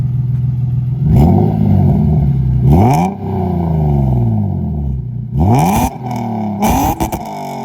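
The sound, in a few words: Lexus IS300 revving with cat-back exhaust, cats deleted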